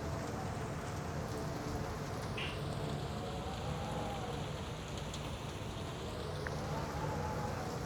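Steady rain hisses in a video game, an even dense patter holding at a soft level throughout, with a couple of faint brief blips on top.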